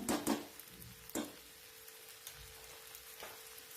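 Salted okra frying in a pan is stirred now and then. Quiet sizzling runs under a few sharp scraping strokes at the start and a couple of softer ones later.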